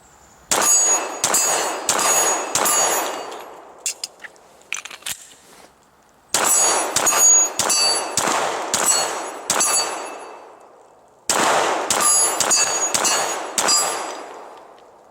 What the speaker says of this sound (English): no problem banging on that steel